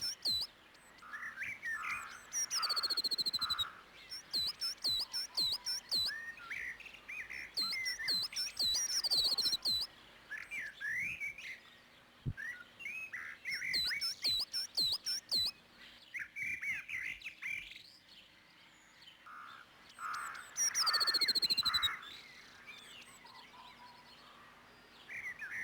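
Springtime birdsong rises from several birds in the countryside, with rapid chirps, repeated whistled phrases and sweeping notes, moderately distant and set against a faint steady hum.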